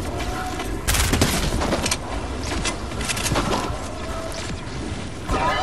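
Gunfire in the Fortnite video game, a dense continuous stretch of rapid shots and impacts with several sharper bursts, loud throughout.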